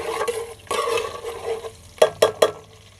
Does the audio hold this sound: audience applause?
no